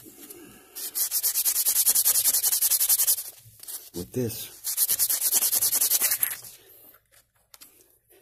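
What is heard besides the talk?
sanding with a 180 grit sanding pad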